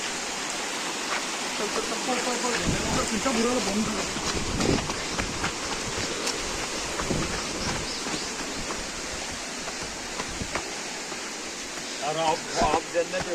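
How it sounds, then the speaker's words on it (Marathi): Heavy rain pours down at Antur hill fort near Chhatrapati Sambhajinagar, a dense, steady hiss close by that fills the whole stretch, with people talking at times beneath it. "काय पाऊस झालाय"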